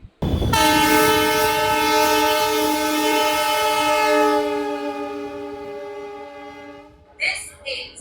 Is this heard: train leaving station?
yes